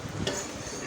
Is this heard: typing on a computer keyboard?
no